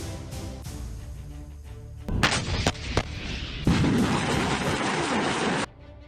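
Artillery fire and explosions in the Nagorno-Karabakh war between Armenia and Azerbaijan: loud, close booming blasts with sharp cracks, then a long sustained roar of heavy fire.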